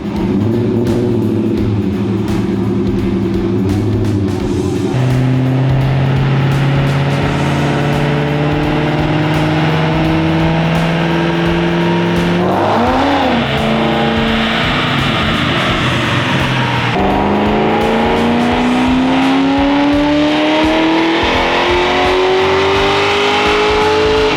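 A Ford Terminator Cobra runs hard on a chassis dyno inside a shop, its engine roaring loud and close for the whole stretch and pulling through repeated rising sweeps of revs with brief shifts between them, with no talk.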